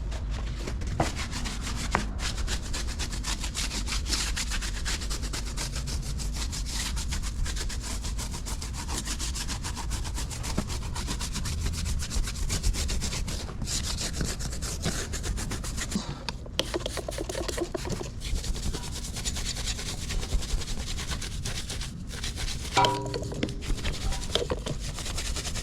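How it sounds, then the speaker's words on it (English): A vehicle's wheel wells are scrubbed with degreaser, giving a continuous close, loud, rhythmic brushing rasp that keeps going with no talking. "A little degreaser on there. Scrub her down."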